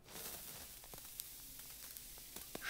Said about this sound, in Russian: Шипит. Плевок. Тоже из слоев сделан.